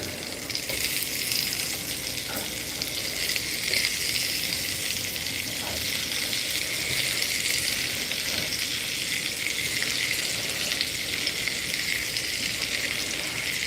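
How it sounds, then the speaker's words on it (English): Cut potatoes for hash browns fry in a pan of oil and butter, a steady loud hissing sizzle that holds evenly throughout with faint occasional pops and no speech. "You cut up some potatoes and you put them in a pan that has oil and butter"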